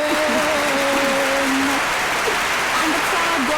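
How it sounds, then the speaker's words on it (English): An audience at an art event welcoming artist Kikelomo Johnson claps and cheers loudly and continuously, with excited voices rising through the dense applause. "And the crowd goes wild."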